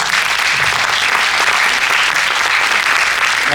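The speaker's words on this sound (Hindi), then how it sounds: "देखिए, तालियों में कमी नहीं होनी चाहिए।" An audience at a stage event bursts into loud, dense applause that stays steady and unbroken throughout, a thick wash of many hands clapping close by.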